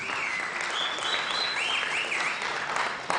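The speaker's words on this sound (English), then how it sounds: "Another better round of applause to all our panelists." Audience applause for panelists at a summit on unemployment at Tangaza University: steady, dense clapping sustained throughout, with a few high whistles or cheers riding over it.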